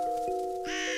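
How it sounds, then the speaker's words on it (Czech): A flock of dramok birds, prey of fire dragons, caws in a short burst of harsh calls over a steady tonal hum, with no talk. "Tihle ptáci jsou dramokové, oblíbená kořist ohnivých drak. Letí v hejnu"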